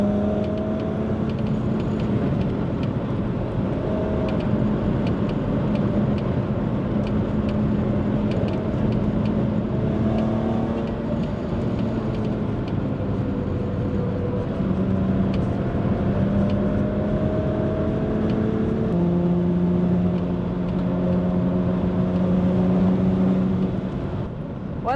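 A BMW E36 M3 fitted with an S54 engine drives steadily, its engine drone constant and close throughout, with gear-linked pitch shifts and no talking.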